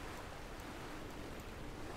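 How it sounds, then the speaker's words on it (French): A sailboat runs through ocean waves in the sailing game Sailaway on a virtual Transat Jacques Vabre crossing, with a steady wash of surf and wind noise holding constant throughout. "Le bateau file à travers la mer, c'est plutôt joli."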